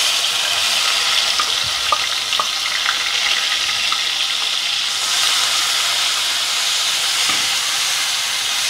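Crushed shallots frying in hot oil for Dindigul-style biryani, a loud, steady, close sizzle and hiss that runs throughout with faint stirring clicks and no voices.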